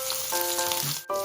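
Garlic sautéing in a pan for a dish of sautéed chayote with chicken: a steady, close hiss of frying, briefly cut off near the end before resuming.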